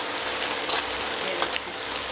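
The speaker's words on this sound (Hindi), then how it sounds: "ये देखिए फ्रेंड्स, हमारा जो प्याज का बिल्कुल ब्राउन हो चुका है।" Chopped onions fry until brown in a pan, giving an even, close, wall-to-wall sizzle that holds steady throughout with no voices.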